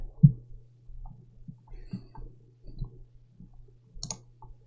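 Soft computer mouse clicks during a Yu-Gi-Oh Omega duel, a handful of light, irregular taps spread across a few seconds over a steady low hum, close and quiet.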